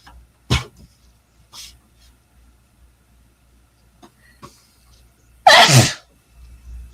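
A person sneezes sharply twice, with a small sniff or breath between, near and clear against a quiet room.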